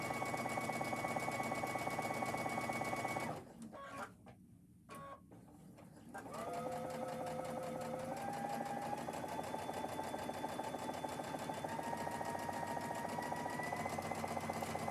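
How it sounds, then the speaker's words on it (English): A sewing machine runs steadily, stitching a quarter-inch seam on a boho apron pocket. The fast, even motor whir pauses briefly partway through, then resumes and carries on to the end with no talking. "we're going to sew the pocket"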